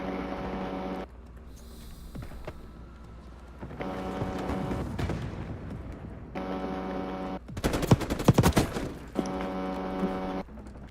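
Sniper rifle gunfire in the online shooter Black Ops 6, with a few sharp shots and a dense burst of cracks near the middle over steady game music and background noise.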